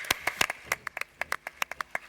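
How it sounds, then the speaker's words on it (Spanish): A few audience members clap for Lucía after her talk on a cannabis regulation bill, sparse, uneven individual claps spaced across a couple of seconds, fairly quiet and without speech. "le damos un aplauso a Lucía."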